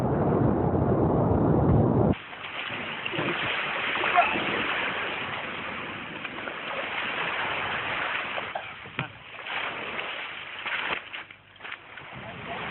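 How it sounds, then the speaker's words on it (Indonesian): Water sloshes and splashes steadily around a paddled rubber boat leaving a beach, a continuous rushing wash that swells and dips without a clear break. "Tim meninggalkan pantai dengan cara mendayung taktis"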